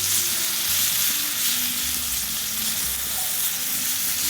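Chunks of meat sizzling and spitting steadily in an overfilled pan set over a campfire outdoors, a continuous close frying hiss with no voices.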